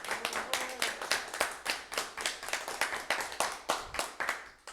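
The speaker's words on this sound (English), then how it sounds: "Give another round of applause." An audience claps in a sparse, rhythmic pattern of distinct hand claps, fairly close and moderately loud, several beats per second.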